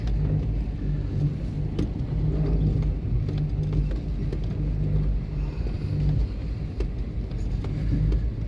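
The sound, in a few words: four-wheel drive vehicle driving through soft sand on a gravel road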